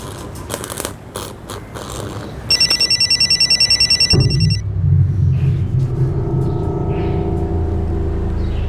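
A telephone rings with a rapid electronic trill in one burst, followed by low rumbling room noise, in a police drama scene.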